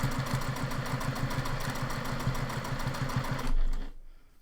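A sewing machine with a thin presser foot runs steadily while topstitching fabric. Its fast, even mechanical chatter goes on for several seconds, then winds down and stops.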